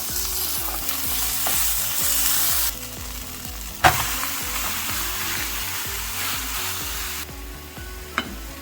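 Kobeda taco frying in a pan, a steady crackling sizzle close up with light stirring, one brief sharp clink partway through and no talking.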